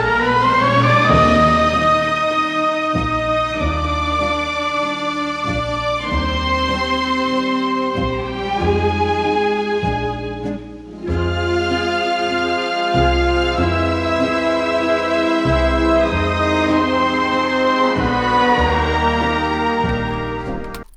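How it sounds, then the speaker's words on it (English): Recording of a ballad in a lush orchestral arrangement, playing continuously with rich sustained harmonies and a steady pulsing low rhythm, moderately loud with no talking over it. "It was sort of a lush orchestration of a ballad."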